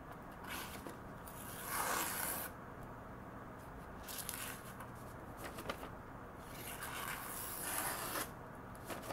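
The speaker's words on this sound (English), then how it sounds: "let's cut some paper" A Sakon 210mm VG-10 gyuto chef's knife slices through paper, making soft hissing swipes and rasping cuts repeated a few times in a quiet room.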